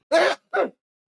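Two quick sneezes in a row, close and fairly loud, the first longer and stronger, the second shorter, with silence before and after.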